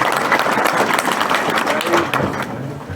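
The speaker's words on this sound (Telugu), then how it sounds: "అభినందించాల్సిందిగా చప్పట్లు కొట్టి ఆయన" Audience applause breaks out at a visit to an ashram, with steady clapping filling the whole stretch and voices mixed into the crowd.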